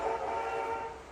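A train whistle sounds as a steady, sustained multi-tone blast with no break, loud and close, with no voices.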